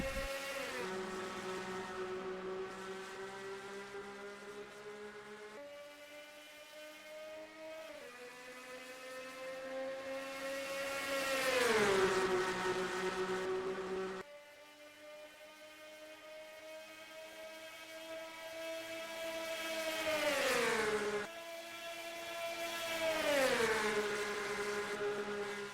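Race car engines in a stock-car racing video game at Atlanta pull away at the start, a droning harmonic whine that climbs and drops repeatedly through gear changes. The engines are moderately loud and heard without talk.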